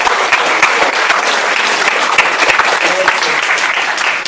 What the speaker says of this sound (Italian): vorrei fare un applauso per voi tutti